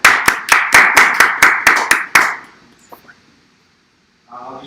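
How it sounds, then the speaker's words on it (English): A handful of people clap in a quick, rhythmic burst for about two seconds at an undergraduate research conference, then it stops; faint talking follows after a pause. "Round of applause."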